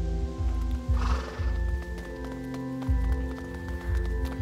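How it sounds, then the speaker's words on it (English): A horse whinnies loudly near the start of a scene in the video game A Plague Tale, backed by steady clip-clopping hooves and a continuous game-style music drone. "Hey there, horses."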